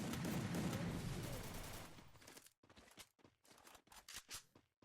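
Gunfire in the Free Fire mobile battle game: a dense burst of shooting at first, then a string of sharp separate shots in quick uneven succession, fairly quiet overall.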